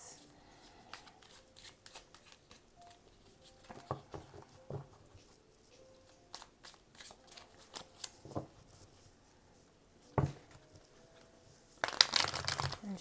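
A tarot card deck shuffled by hand, with riffling, patting and sliding cards heard close up over several seconds, ending in a louder burst of rapid riffle near the end.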